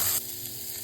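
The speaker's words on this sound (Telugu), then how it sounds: "వీటిని కూడా కొద్దిగా ఫ్రై చేసుకోవాలి." Onion and tomato pieces sizzling in a pan for egg pulusu, a steady close frying hiss that drops slightly in level after a brief louder burst at the start.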